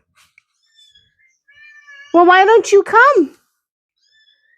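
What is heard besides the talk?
cat meowing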